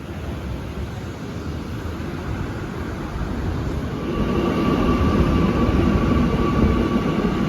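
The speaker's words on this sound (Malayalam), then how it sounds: "ഇവിടെയാണ് നമ്മൾ മെട്രോ വരുന്നത്" A Kochi Metro train pulling into a station platform, a steady low rumble that swells louder halfway through as a faint tonal whine rises over it.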